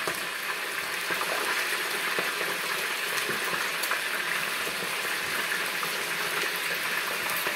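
Chicken wings for Buffalo wings sizzle steadily in hot oil, a dense, continuous hiss and bubbling that stays even throughout with no voices.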